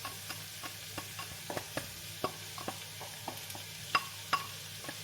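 Cubes of Spam fry in a pan with a steady soft sizzle, punctuated by irregular sharp clicks and scrapes of a utensil stirring them, close and fairly quiet.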